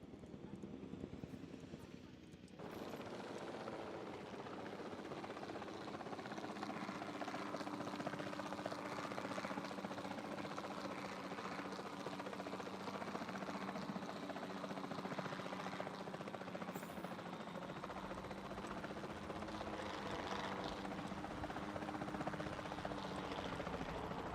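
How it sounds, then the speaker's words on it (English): Helicopter flying in the Jurassic World Evolution 2 video game: a steady, continuous rotor and engine drone that starts abruptly and holds at an even level throughout, with a voice talking over it. "We'll start by tranquilizing one of the dinosaurs from the helicopter"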